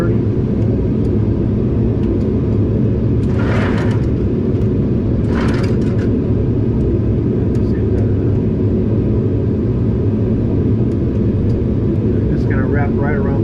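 Boeing 737 cockpit with flaps at 30, a steady loud low engine and airflow drone running throughout, with short bursts of talk rising briefly above it.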